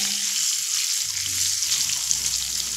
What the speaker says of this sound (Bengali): 3 থেকে 4 মিনিট মতো মিডিয়াম ফ্লেমে ভেজে নেব।